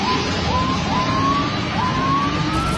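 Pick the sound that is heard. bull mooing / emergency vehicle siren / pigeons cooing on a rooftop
emergency vehicle siren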